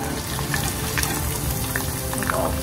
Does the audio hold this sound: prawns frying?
yes